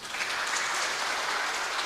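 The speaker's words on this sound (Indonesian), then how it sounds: "Tepuk tangan buat saudara." A church congregation claps during a sermon, a steady, even patter of many hands filling the room at moderate loudness with no voices over it.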